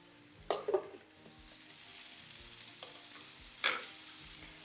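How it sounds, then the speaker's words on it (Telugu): Onions and tomatoes sizzle steadily in a hot pan, a constant frying hiss broken by a few sharp scraping stirs and clinks. "మెల్లిగా మంచి మగ్గనివ్వాలి టమాటాలు ఉల్లిపాయలు"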